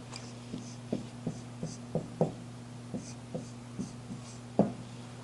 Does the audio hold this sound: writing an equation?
yes